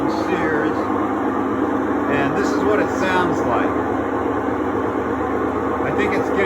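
A three-year-old Sears Kenmore washing machine with a failing bearing drones with a rough, grinding hum and whirring tones, loud and close, while voices are heard over it.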